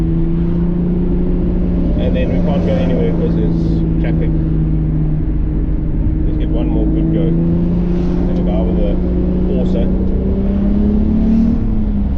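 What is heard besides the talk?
VW VR6 car engine and rattling exhaust while driving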